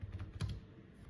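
A few quick, quiet keystrokes on a computer keyboard while entering data in Tally Prime accounting software, with one slightly louder key press in the middle.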